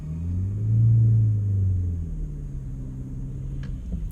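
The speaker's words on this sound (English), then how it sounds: "Do not overrev the engine when starting from standstill." A manual car engine revved hard from standstill, a loud swelling drone that peaks and then settles into a steady lower rumble, heard close with no talking.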